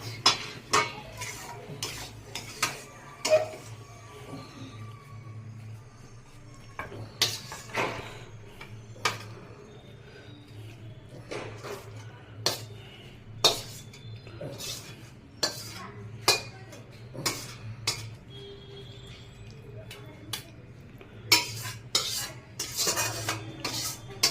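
Pastry dough frying in a pan, a faint low sizzle under repeated sharp metal clinks and scrapes of a utensil against the pan, spaced irregularly over a long stretch with no talk.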